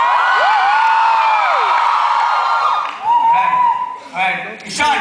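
A crowd of people screams and cheers loudly, a sustained wall of high-pitched yelling that later breaks into shorter, separate whoops and shouts.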